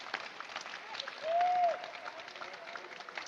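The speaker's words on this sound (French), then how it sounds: "Je pense que là, il mérite un tonnerre d'applaudissements" A crowd at a boxing event applauds with steady, fairly distant clapping that runs the whole time, and a brief whistle-like tone rises above it partway through.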